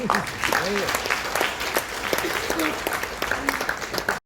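An audience applauds steadily at a ship commissioning ceremony in Goa, a continuous wash of clapping with a voice heard over it.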